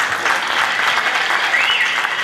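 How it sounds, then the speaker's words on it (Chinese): A hall audience at a Kaohsiung civic awards ceremony gives steady, full applause to young Junior Chamber members, an even wash of many hands clapping without pause. "大家给他掌声鼓励一下哈，我们的年轻人"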